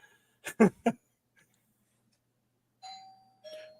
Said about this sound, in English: That is definitely my doorbell.